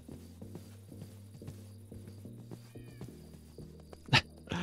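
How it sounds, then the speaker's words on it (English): A cat meows against a low, steady background, with a short, clear meow near the middle, and no voices in between. "I straight heard my cat meow from like a mile away"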